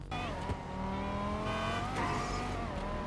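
A Banshee racing car engine with a turbo in GTA Online drones steadily with rising and falling whine, tire noise layered underneath, loud and continuous with no talking.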